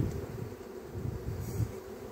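Honey bees buzz steadily inside a hive opened during beekeeping work on merging weak colonies, a dense continuous drone close up with no talking.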